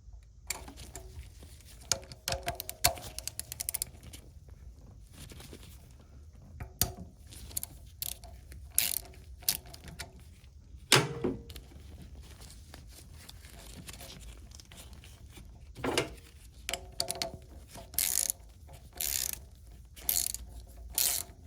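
Ratchet working rusty bolts loose on a car AC compressor, bursts of rapid clicking pawl ticks separated by pauses, close and fairly quiet.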